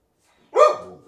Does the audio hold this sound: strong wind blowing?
no